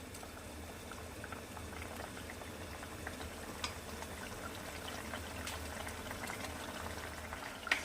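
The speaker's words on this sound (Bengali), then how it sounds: "মাছগুলো দিয়েও আমি মিনিট খানেক ফুটিয়ে নেব, হাই ফ্লেমেই ফুটিয়ে নেব।" Folui fish curry, a thin Bengali fish stew, bubbles and boils on a high flame, a steady close simmering hiss with soft popping bursts throughout and no voices.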